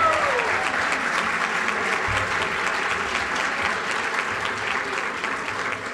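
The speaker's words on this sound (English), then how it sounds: "Now you can clap for everybody." Banquet audience at an annual association meeting breaking into sustained applause, a loud, dense and even roar of many hands clapping continuously, with faint voices mixed underneath.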